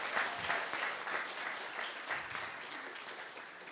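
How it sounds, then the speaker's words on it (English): An audience at a symposium gives a round of applause, a short burst of steady, fairly faint clapping lasting a few seconds. "Can we get one more round of applause for Seth?"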